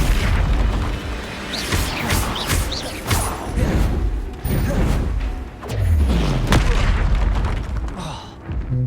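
Incendio fire spell blasts in Hogwarts Legacy, a dense run of loud booming thuds and whooshing bursts with mechanical clatter, repeated over several seconds with no pauses or voices.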